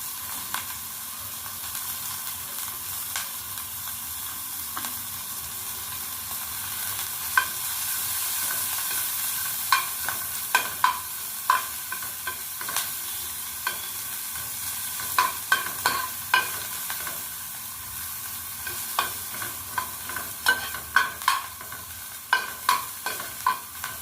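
Finely chopped onions and capsicum stir-fry in a pan for Maggi masala noodles, with a continuous soft sizzle and frequent sharp spatula taps and scrapes on the pan, close and steady.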